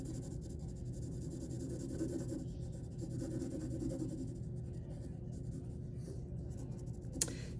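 A graphite pencil held flat shades diagonally across paper with a soft, continuous scratchy rasp, steady and close, with no talking.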